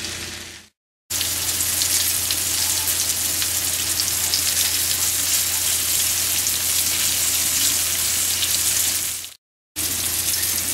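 Chicken pieces frying in a hot pan sizzle loudly and continuously up close, with a constant low hum underneath and two brief cuts to silence.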